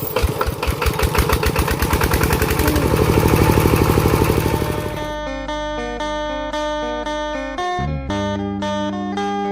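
A walking tractor's small single-cylinder engine chugs loudly and steadily nearby, revving up before settling into a rhythmic idle.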